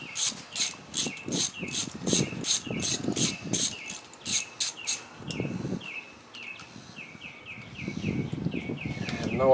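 An 8mm socket ratchet loosens bolts on a Suzuki LT230S ATV, making rapid rhythmic clicking bursts that stop and start, with a low rumble underneath and a higher chirping tone near the end.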